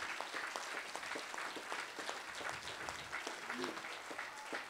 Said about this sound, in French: je voudrais ici qu'on applaudisse très fort les accompagnants